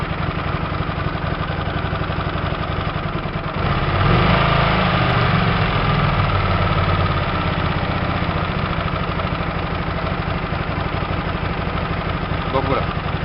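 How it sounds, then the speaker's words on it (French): A Hyosung 125 GTR motorcycle engine idles steadily, then its revs climb for a few seconds before settling back, with someone talking over it throughout. "vous l'entendez, le moteur prend du régime"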